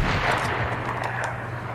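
A minigun fires in Fortnite Zone Wars, producing a dense, continuous roar of rapid gunfire that stays loud and steady throughout the short burst.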